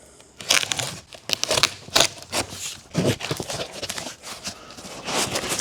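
A shipping box for an ArcCaptain Cut55 prolux plasma cutter is cut and torn open up close, with irregular sharp cardboard rips, crinkling packing material and knocks, no speech.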